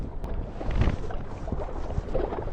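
Strong wind at a reservoir buffets the microphone in a continuous low roar with gusty surges, close and loud, with no talking.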